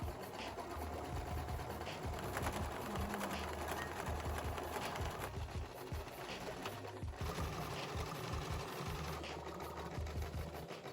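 An embroidery machine stitches thread into a shirt, a steady, fast mechanical chatter with a low rhythmic thump that runs without pause for the whole stretch, close and moderately loud.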